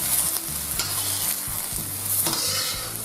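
Mushrooms frying in butter in a wok over high heat, a loud continuous sizzle broken by rhythmic scraping and stirring strokes.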